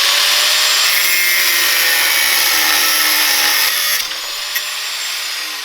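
A power tool grinds steadily through rivets on the frame of a Predator 212 mini chopper, a loud continuous high-pitched cutting whine that drops off near the end with a brief final bite.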